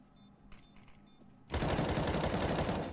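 Counter-Strike gunfire during a competitive match, a few faint clicks and quiet ambience before a sudden loud burst of rapid shots that continues to the end.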